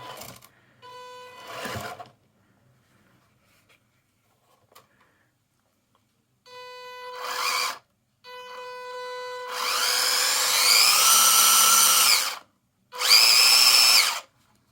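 The small electric motor of a WPL D64 RC truck is run indoors in repeated bursts, whining at rising pitch before dropping to silence, with two longer, louder full-throttle runs near the end.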